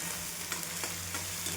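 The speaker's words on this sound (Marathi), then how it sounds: "कांद्यामध्ये हिरवी मिरची आणि लसूण पण भाजून घेऊ, परतून घेऊ." Green chili and garlic sauté with onions in a pan, making a soft, steady sizzle with faint stirring scrapes over a short stretch.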